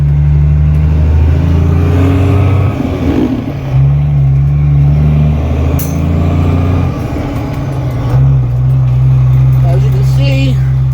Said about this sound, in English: this thing does drive. It does move. I wanted to go through the gears a little bit.